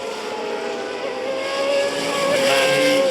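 Auto GP race cars, including the two MLR 71 team cars, pass on the Hungaroring circuit during a 2013 race, their high engine whine growing louder toward the end of the short pass.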